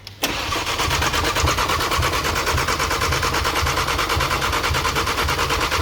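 A rebuilt DAZA engine grinds steadily on its starter, cranking with a fast, even, repetitive chug that holds loud and close for several seconds without catching.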